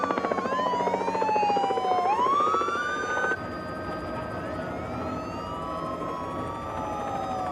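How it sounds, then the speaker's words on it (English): Police helicopter hovering over a truck chase in Denver: a loud, steady rotor chop is layered under wailing sirens that sweep up and down, with no talk. "I hovered the helicopter in front of the truck"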